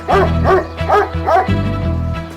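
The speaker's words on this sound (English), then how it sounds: "Then Rip heard a dog bark." A dog barks in a quick series of four or five loud, close yips and woofs with a whimpering edge, evenly spaced over about two seconds.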